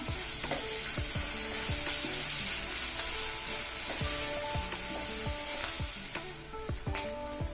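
Grated raw green mango frying in ghee in a pan, with a steady sizzle throughout and repeated scraping and stirring strokes from a utensil, close and moderately loud, no voices.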